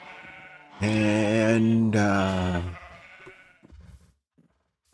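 A single sheep bleats loudly and close on a farm, one long wavering cry lasting about two seconds, followed by a brief spoken word and faint rustling and shuffling.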